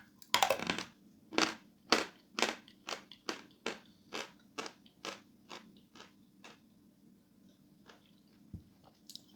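A piece of dense, greasy sawn chalk is bitten and then chewed, starting with a sharp crunch followed by a steady series of about a dozen crisp, close crunches that grow fainter.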